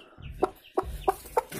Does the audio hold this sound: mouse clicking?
no